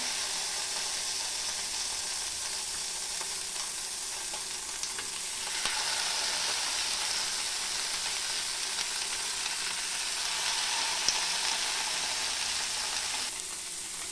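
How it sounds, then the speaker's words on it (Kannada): Bangude mackerel fish shallow frying in oil in a pan, a continuous hissing sizzle that holds fairly steady and swells a little midway, with no talking. "ಈಗ ನಾವು ಫಿಶ್ ಫ್ರೈ ಮಾಡ್ತಾಯಿದ್ದೀನಿ"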